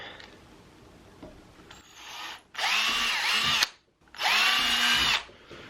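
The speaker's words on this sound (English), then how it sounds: "I'm going to pre-drill a couple holes into my PVC here." A corded power drill whirs in two loud bursts while pre-drilling holes in PVC, its pitch dipping as it bites into material, with a short pause between them.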